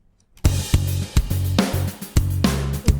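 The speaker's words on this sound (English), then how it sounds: "So together the drums with the bass sounds something like this." A drum beat with punchy kicks and sharp hits over a deep, sustained bass line, playing in a steady groove with no voices.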